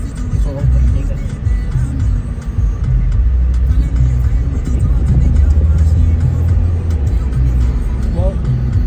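A car overtakes on Kennon Road with a steady engine drone and road rumble under constant in-cabin noise, the motor note rising slightly as it pulls past.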